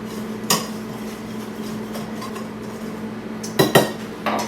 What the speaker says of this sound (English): And now we whisk.